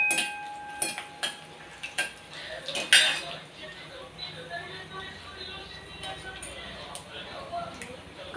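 A green chilli goes into a hot tempering of mustard seeds and curry leaves in a pan over low gas. A spoon clinks and scrapes against the metal in scattered, quiet knocks, with a soft sizzle underneath.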